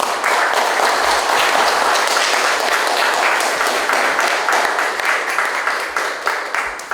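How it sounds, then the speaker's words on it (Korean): Sustained applause from an audience at the opening of a solo art exhibition, dense steady clapping filling the room throughout and thinning slightly toward the end. "여러분들을 함께 박수 한번 쳐주십시오."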